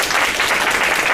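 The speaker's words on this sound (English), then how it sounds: "let's first give a round of applause for our speakers" An audience at a political forum applauds its speakers with steady, dense clapping that stays loud and even over a brief moment, with no voices over it.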